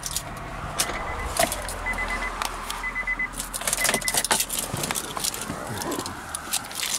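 Keys jangle in a metallic rattle inside a 2000 Acura TL as the car is shut off, the engine hum fading beneath the close, bright clinking over several seconds.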